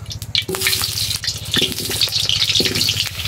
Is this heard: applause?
no